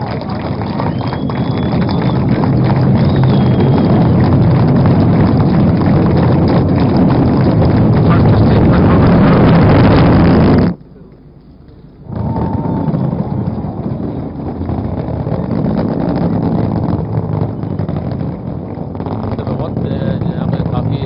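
A GSLV Mark III rocket lifts off on the Chandrayaan 2 launch, roaring loud and steady through dense cloud with a rumbling, wind-like broadband wash, briefly dropping out near the middle before surging back.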